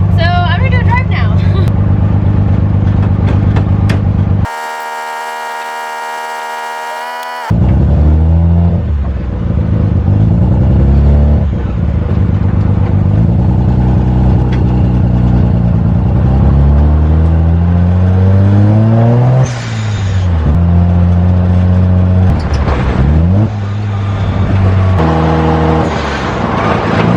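A drift car being driven hard, its engine rising and falling through repeated revs and shifts for a long stretch. A short steady tone breaks in partway through, and voices are audible at times.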